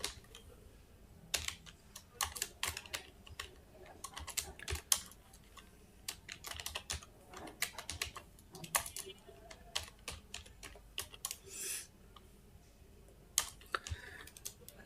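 Someone types HTML code on a computer keyboard, producing quiet, close clicks in irregular bursts with short pauses between them, and no talking.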